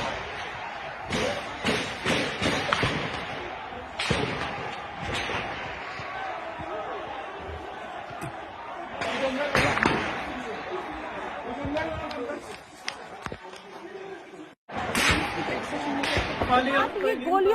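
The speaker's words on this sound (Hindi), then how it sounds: "ये गोलियों की तड़तड़ाहट, लोगों के आवाज में वो डर, भगदड़" Gunfire at a protest in Pakistan-occupied Kashmir, fired on unarmed protesters, comes as scattered sharp cracks and bangs amid a panicked, shouting crowd, with voices throughout and a brief drop-out near the end.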